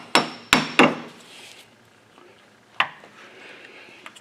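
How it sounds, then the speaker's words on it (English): Prying the center cap off a 1999–2013 Chevy Silverado front wheel with a screwdriver or pry tool: three sharp metallic knocks in quick succession, a pause with faint scraping, then one more clack, close and alone. "Next we got to pop this little center cap off here."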